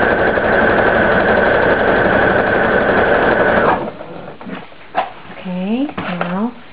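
A sewing machine stitches fold-over elastic in a steady, close, high-pitched whir for several seconds, then stops, followed by soft handling clicks and a person speaking.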